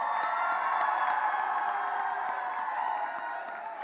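At the Miss PTC Punjabi 2018 grand finale, a large pageant audience keeps up sustained applause and cheering, with scattered sharp claps and whoops that taper slightly toward the end.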